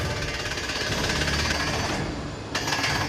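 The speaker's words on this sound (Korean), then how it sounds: "심정 작업은 해머로 시추공을 파내려가고 그때 생긴 돌 조각들은 고압의 공기로 불어내는 원리로 진행된다" A pneumatic hammer drills a borehole into rock with a loud, rapid, continuous hammering clatter, heard close, with a brief change in tone near the end.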